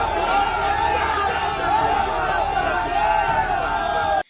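Crowd at a political gathering chanting and shouting at Raj Chakraborty in Barrackpore, a dense, loud mass of voices sustained for several seconds before cutting off abruptly.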